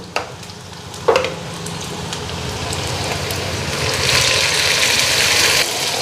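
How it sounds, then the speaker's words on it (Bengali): Onions sizzling and frying in a pan for a tangra fish curry, a steady bright crackle that swells louder toward the end, with a sharp stir or clatter near the start and no talk. "এদিকে পেঁয়াজটা হালকা ফ্রাই হয়ে গেছে"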